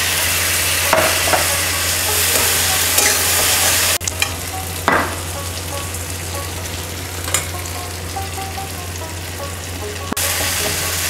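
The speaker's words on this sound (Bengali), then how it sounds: "আর অল্প অল্প জল দিয়ে দিয়ে আমি মশলাটাকে কষে নেব।" Spice paste with Kashmiri chili powder and splashes of water frying in a pan, a loud continuous sizzle with occasional sharp stirring scrapes and a few bursts as water hits the hot oil, no talking.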